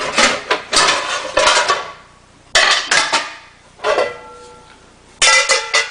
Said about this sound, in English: If I was to take this number 8 and put it inside of another number 8